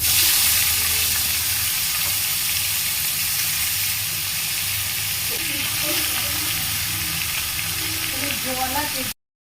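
Water lily stems hitting hot oil in a pan with hilsa fish head, nigella seeds and green chilies, giving a steady loud sizzle and frying hiss with faint stirring throughout.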